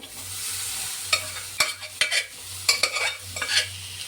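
Cooked beans being stirred in a pan, with irregular scraping and clanking spoon strokes over a low sizzle, close and fairly loud.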